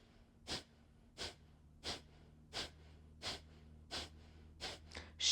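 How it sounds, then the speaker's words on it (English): Kapalabhati yoga breathing: eight short, sharp exhales sniffed out through the nose, evenly spaced about every 0.7 seconds, close and clear against a quiet room, with no talk. "Short, sharp, sniffing breaths out through the nose."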